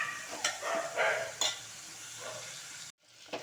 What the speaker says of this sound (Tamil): தக்காளி போட்டு நல்லா வதக்கிட்டு